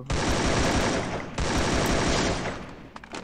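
MP5 fire in a battle royale game comes as two long, dense automatic bursts, loud and close, with a brief gap between them, trailing off into scattered shots.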